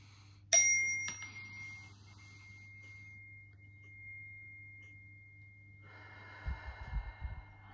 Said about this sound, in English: I'm going to do my three chimes